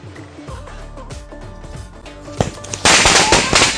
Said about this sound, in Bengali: দেখবি লঙ্কা ফটকা কেমন ফাটায়